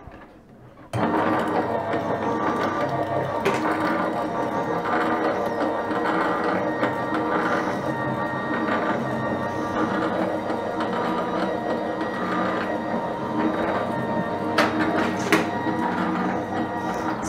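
A Crafter's Companion Gemini die-cutting machine starts with a sudden onset after a second of quiet, then runs at a steady mechanical whir with faint ticks and clicks for the rest of the clip, close and fairly loud.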